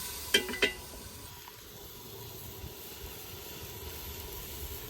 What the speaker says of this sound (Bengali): এখন তেলে বাদ বাকি মশলা দিয়ে দিই